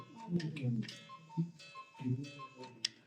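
A mechanical cuckoo clock ticks steadily while its weight slowly descends, with the soft ticks partly under a person talking nearby.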